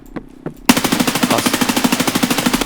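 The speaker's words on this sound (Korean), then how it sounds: "뭔 총이야 M1A 같은데" Rapid automatic gunfire from an M1A rifle in the video game Escape from Tarkov, a loud, fast even burst of shots after a couple of softer sounds at the start.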